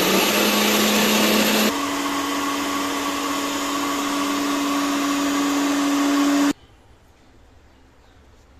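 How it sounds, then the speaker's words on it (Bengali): A kitchen blender whirs loudly and steadily as it blends rice, water and salt into batter for jackfruit pitha, its motor pitch shifting slightly early on before it cuts off abruptly near the end, leaving quiet room tone. "এখন ব্লেন্ডারে কিছুক্ষণ ব্লেন্ডার"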